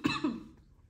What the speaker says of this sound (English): Yes, I see I was going to cough.